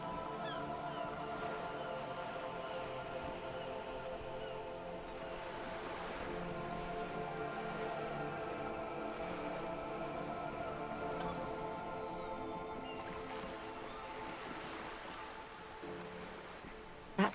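Rain falls steadily in the video game Disco Elysium, a soft, continuous patter that stays even and fairly faint for the whole stretch with no speech over it.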